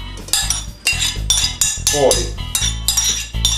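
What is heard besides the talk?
lentils being put into a cooking pot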